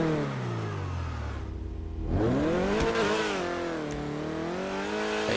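A Grotti Itali Classic sports car with its stock exhaust in a racing video game revs hard, the engine note climbing and falling in rising sweeps after a brief lull, loud and close with no voices.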